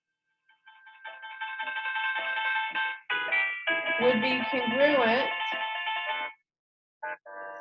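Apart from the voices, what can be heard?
phone ringtone ringing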